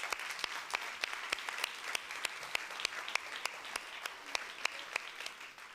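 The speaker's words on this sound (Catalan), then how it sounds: "Un fort aplaudiment." An audience at a school short-film contest awards ceremony claps, a brisk, even applause with steady crisp hand claps, moderately distant and without talking.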